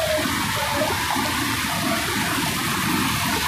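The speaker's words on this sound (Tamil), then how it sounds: "தண்ணி வந்து பயங்கரமாக ஆர்ப்பரித்து ஓடிட்டுருக்கு" Water crashing down at the Kozhikkarai waterfalls, a steady, dense roar of churning flow that stays loud and continuous throughout, with no voices.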